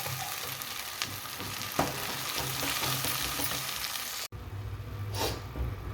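A tempering for coriander chutney fries in hot oil with a continuous crackling sizzle and scattered pops, briefly cut off and then resumed.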